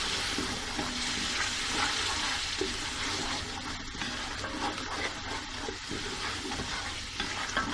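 Spices for kadhi, with a splash of water added, sizzle and spit steadily in a hot pan, loud and close, with stirring scrapes mixed into the constant frying hiss.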